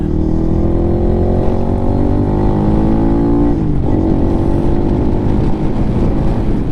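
A Lifan KPM 200 motorcycle with an aftermarket exhaust drones steadily at about 75 mph, its loud exhaust tone holding constant with a brief dip in pitch partway through, like a shift.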